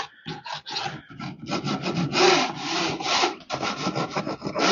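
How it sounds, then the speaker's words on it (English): A dirty picture frame's edges being scraped clean, producing a close, raspy rubbing in repeated back-and-forth strokes of varying intensity, alone without talk. "Scrape the edges clean."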